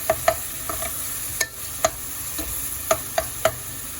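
Fish curry with onion, green chilli and salt cooks in a pan with a soft, constant sizzle, while a utensil taps and scrapes against the pan in sharp, irregular clicks.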